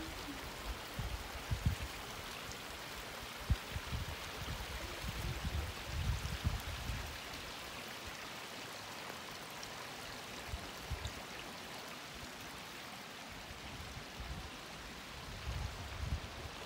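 Spring water runs steadily at a trout farm in Ghizer valley, Gilgit-Baltistan, a continuous rushing flow with faint bubbling surges, fairly quiet and close, with no voices.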